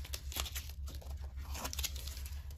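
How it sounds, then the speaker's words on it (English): Painter's tape peeled from a stained and painted surface, a close, rasping tear with crinkly bursts, set over a steady low hum. "we're going to go ahead and just peel that tape off of there"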